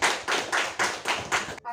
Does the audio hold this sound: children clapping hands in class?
yes